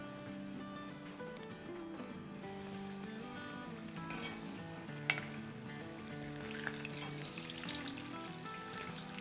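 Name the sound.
deep-frying aloo paratha bites in oil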